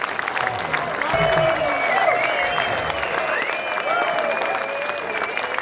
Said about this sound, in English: give it up for our first semi-finalists, Joe Miller and Emil Rosberg.